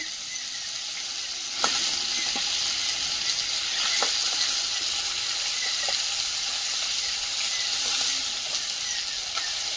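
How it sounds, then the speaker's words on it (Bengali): Fish fried in a pan of oil give a steady, dense sizzle throughout, with a few soft clicks and knocks of a utensil standing out above the crackle. "মাছগুলো ভাজা হয়ে গেছে, তুলে নেব"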